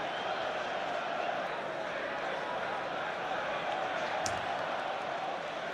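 Stadium crowd at Stamford Bridge during a Chelsea versus Manchester United football match, a steady, dense wash of spectator noise sustained throughout with one brief sharper accent near the end.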